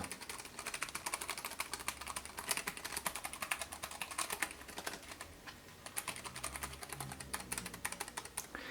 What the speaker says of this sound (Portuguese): Eu tô batendo forte no teclado, tá?